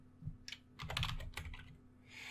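Someone types a wget command on a computer keyboard, a rapid run of crisp, close clicks and key taps in short bursts over a steady low hum, with no voice present.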